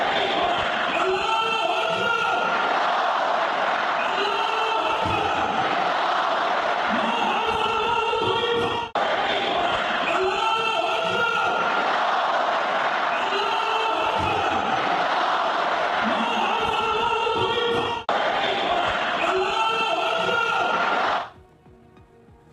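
A large crowd in Tehran welcoming Iran's new supreme leader roars and chants in loud, continuous waves of massed voices, with brief cuts in the sound near the middle and end before it stops abruptly.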